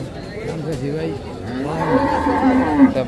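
Young calves, deshi, Sahiwal and Friesian, moo repeatedly at a busy cattle market, loud and close with drawn-out calls, while people chatter in the background.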